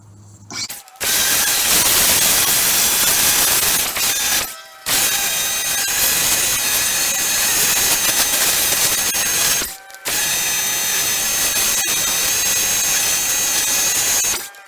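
A filthy 2006 Yamaha YFZ 450 ATV is washed down with a loud, steady blasting spray that runs in long bursts of several seconds, each broken by short silent pauses.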